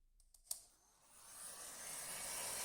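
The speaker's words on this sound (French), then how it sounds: "on termine le travail au décapeur thermique" Heat gun warming adhesive film on a rear car window, a steady broadband blowing hiss that rises after a brief click and holds at moderate level, with no talk.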